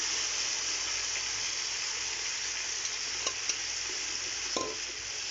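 Meat frying for yakhni pulao in a pot, a steady close sizzle and hiss throughout with a couple of faint clinks from stirring.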